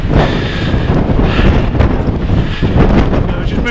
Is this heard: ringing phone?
no